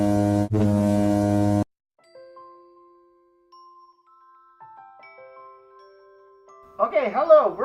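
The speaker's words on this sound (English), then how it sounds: "The first ever air horn that drowns out every other sound but its own." A loud, blaring air horn blast with a thick stack of harmonics opens the scene, cut by a brief dip, followed by quiet tones and a warbling siren-like sound near the end.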